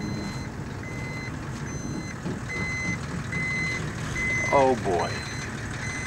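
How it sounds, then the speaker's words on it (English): Tow truck reversing beeps in the Desert Bus video game, a steady series of regular electronic beeps over a low engine rumble, with a brief spoken exclamation near the end. "Now I'm getting towed."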